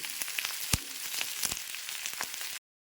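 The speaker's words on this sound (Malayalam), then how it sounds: "സവാള ഇട്ടൊന്ന് മൂക്കട്ടെ." Onion and green chilli frying in a pan for a Kerala-style coconut crab curry, a soft steady sizzle with scattered pops and crackles, close and fairly quiet, ending abruptly.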